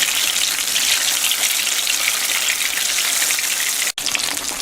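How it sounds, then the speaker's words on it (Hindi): Fish frying in hot oil for a Lahori restaurant-style fried fish, a steady dense crackling sizzle that stays loud and even throughout, with one brief dropout near the end. "ये 1 मिनट हमने इसको खोलते हुए तेल में पकाया"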